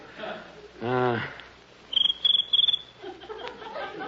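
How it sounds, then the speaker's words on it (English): A small cricket chirps in quick, high, pulsing bursts, three short trills in a row, fairly close and clear, following a brief deep voice-like sound and set against faint background noise. "That's just a little cricket."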